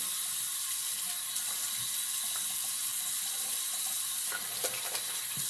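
Tap water runs steadily from a bathroom faucet into the sink while the face is rinsed after a wet shave, a constant close hiss with a few small splashes and no talking.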